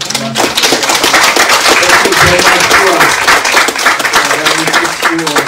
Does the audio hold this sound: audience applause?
yes